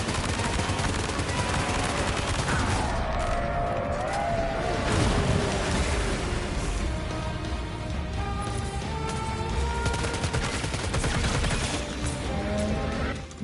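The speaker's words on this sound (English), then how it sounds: "Alright, let's go with guns instead." Sustained automatic gunfire from several guns in the video game Death Stranding 2, during a fight against a giant BT, rattling steadily and loud for the whole stretch over a dense game soundscape with music.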